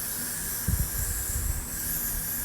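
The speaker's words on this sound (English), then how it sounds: "now I'm going to get my spray and I'm gonna go as close to the hairline as possible" Hair spray sprayed close to the hairline during a pixie wig installation, a steady continuous aerosol hiss lasting the whole moment, with a few soft low thumps of handling partway through and no talking.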